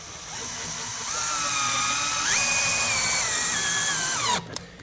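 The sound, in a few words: power drill driving screws to attach shutter brackets to frame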